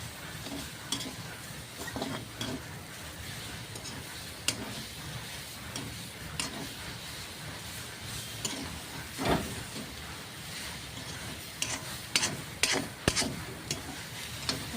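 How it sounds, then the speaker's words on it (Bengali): Taro leaf paste fries in a little oil in a pan, giving a quiet, steady sizzle broken by occasional clinks and scrapes of stirring. "তেলের মধ্যে একটু ভাজা ভাজা করে নেব বন্ধুরা।"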